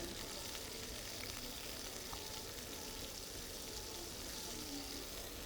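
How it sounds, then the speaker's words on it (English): Hamburger meat browning in oil in a skillet on a chef stage, a steady dense sizzle with a constant hissing wash and no voices over it. "And then we're going to add the hamburger meat. And get this browning."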